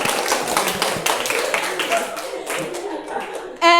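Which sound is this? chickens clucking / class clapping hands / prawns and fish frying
class clapping hands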